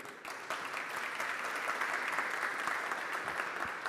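Steady applause from an audience at a corporate launch event for an energy consortium, broad and sustained with many hands clapping throughout, no voices standing out.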